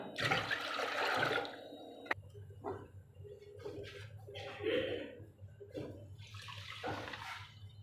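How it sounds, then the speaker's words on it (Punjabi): Water is poured from glasses into a pot of rice with cumin for cooking, giving a loud splashing gush at first, then quieter pouring and a few clinks with a low background hum. "ਤਿੰਨ ਗਲਾਸ ਆਪਾਂ ਪਾਣੀ ਦੇ ਪਾ ਲਾਂਗੇ ਜੀ"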